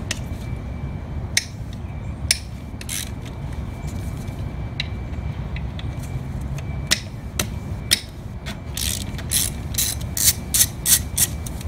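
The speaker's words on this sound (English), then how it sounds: "we just need to take this one off, and that is a couple 10 millimeter bolts." A hand ratchet loosening 10 mm bolts from a clutch slave cylinder on a T56 transmission in a garage, with quiet bursts of fast clicking that grow quicker and denser toward the end.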